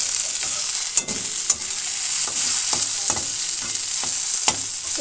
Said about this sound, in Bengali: তাই জন্য আলুটা ভাজছি একটু